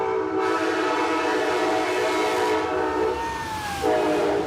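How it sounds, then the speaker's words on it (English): A train rolls past on nearby tracks, a loud sustained rumble with tonal horn-like lines and a falling pitch near the end, no voices. "How often does the train come?"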